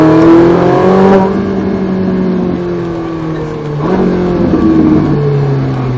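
A Ferrari 458 Italia V8 revs hard under acceleration, its loud, close engine note climbing in pitch, easing briefly, then surging again.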